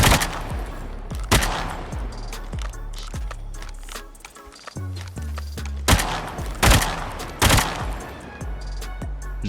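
Rapid gunfire from Call of Duty Mobile, loud and near, with bursts of repeated shots and crisp cracks broken by brief pauses and clattering, and no speech over it.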